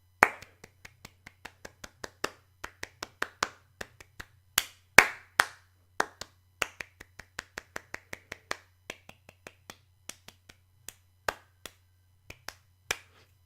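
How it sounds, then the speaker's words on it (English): Bare hands clap out a song's melodic rhythm, roughly forty sharp claps in uneven, tune-like groupings, close and fairly loud over a faint low hum, with no voices. "That's because it doesn't sound like anything. I'm just clapping."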